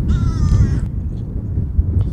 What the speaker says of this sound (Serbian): Evo, tu je jedna ptica.